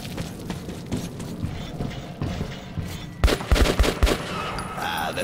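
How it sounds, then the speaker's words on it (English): Gunfire in the Metro 2033 game, sparse scattered shots at first, then a loud burst of several rapid gunshots echoing in a tunnel, with faint mechanical clicks after. "Why are you randomly shooting?"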